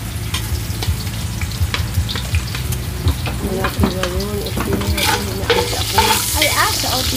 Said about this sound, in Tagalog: ginigisa na po mga kabayan yung ating bawang at sibuyas